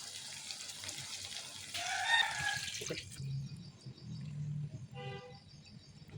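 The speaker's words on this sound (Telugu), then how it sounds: "వాటర్ వేసుకుందాం." Water poured from a cup into a pan of cooked vermicelli for upma in a home kitchen, a brief splashing pour near the mic, with a rooster crowing and clucking faintly in the background.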